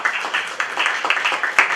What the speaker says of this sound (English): let's give both candidates, all candidates, a round of applause